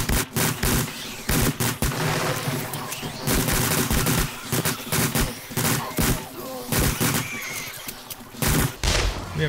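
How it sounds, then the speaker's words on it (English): Rapid bursts of gunfire fill the stretch as a player shoots zombies in the video game 7 Days to Die during a horde night, loud and continuous with short pauses between volleys. "enough so I can see what's going on a little bit better to shoot these guys"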